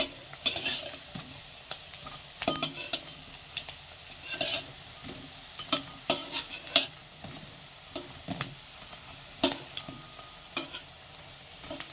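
Oil sizzles steadily as prawn fritters fry, broken by frequent sharp clinks and scrapes of a utensil against the pan.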